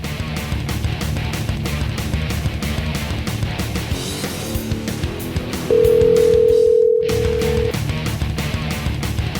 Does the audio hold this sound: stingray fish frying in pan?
no